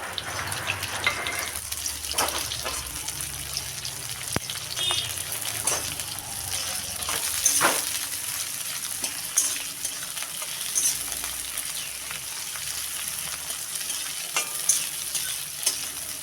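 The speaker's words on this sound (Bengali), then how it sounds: "দিয়ে দেব কেটে রাখা পেঁয়াজ। একটু নেড়ে চেড়ে" Chopped onions sizzle in hot oil in a pan with whole cumin, dried chilli and a bay leaf, with a steady frying hiss broken by scraping stirs of a spatula.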